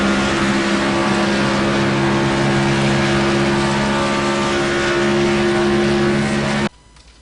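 Onboard engine sound from a race truck in the FAST SuperTruck Series at Homestead, a loud steady roar with strong droning harmonics held for several seconds, then cutting off abruptly near the end.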